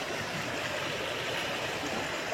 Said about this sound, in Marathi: पाणी वाहतोय जोरात.